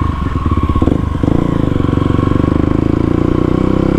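Kawasaki KLX 250 motorcycle engine running steadily close by, a loud continuous pulsing drone with a brief rev change near the start and no talk.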